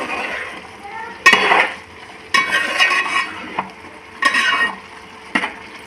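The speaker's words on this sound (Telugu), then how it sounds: "సగం విండేసుకొని మంచిగా కలిపేసుకుందాం" Vegetable pulao is stirred in a pot after lemon juice is squeezed in, a utensil scraping and clattering in about four separate bursts with quiet gaps between them.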